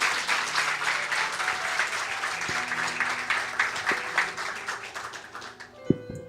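A church congregation applauds during a Spanish-language service at Nueva Vida, a broad sustained wash of clapping that carries on for several seconds before thinning out, with a few low thumps near the end.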